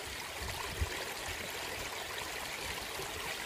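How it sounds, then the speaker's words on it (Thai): A mountain stream flows near a rocky cliff face, producing a steady, even rush of water that holds at moderate level throughout with no other sounds. "เสียงน้ำไหล"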